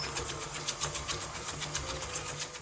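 Eggs, sugar and vanilla extract mixed in a bowl for brownie batter: a steady, close mechanical whir with a fast, regular pulsing rhythm, continuous throughout with no talking.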